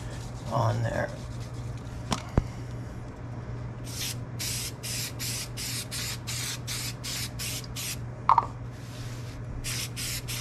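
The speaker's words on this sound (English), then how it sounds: "let's go ahead and spray some K&N air filter oil" K&N air filter oil sprayed from an aerosol can onto a cleaned air filter from a WR250R dirt bike, a run of about a dozen short hissing bursts over a steady background hum, with someone talking briefly before.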